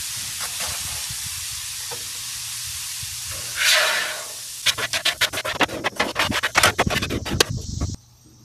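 A metal scraper drags leftover cooked-on residue across a hot Blackstone griddle, a soft hissing sweep followed by a quick series of loud, rhythmic scraping strokes that stop abruptly.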